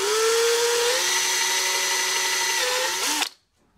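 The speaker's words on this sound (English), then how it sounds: "so we're going through with our number drill" A number drill in a powered machine spins steadily as it cuts through a metal part for a lathe slotter build, a continuous high whine with a slight pitch shift near the end before it abruptly stops.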